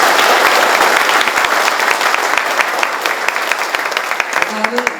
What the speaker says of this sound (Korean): 도정의 든든한 버팀목이 되어주신 부지사님께 다시 한번 큰 박수 부탁드립니다